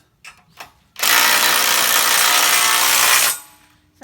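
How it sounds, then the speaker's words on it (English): A tool tightens nuts on a WoodMizer sawmill bed extension: two short clicks, then a loud, steady, dense mechanical whirring burst lasting about two seconds before it cuts off, heard up close with no talking. "I'm just tightening these down just to connect these two together so it make it more rigid."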